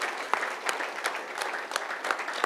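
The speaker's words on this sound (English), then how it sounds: "big round of applause for him as well" Audience clapping at a corporate leadership talk at HP, a short burst of scattered, moderately loud claps with distinct individual hand strikes standing out in an uneven rhythm.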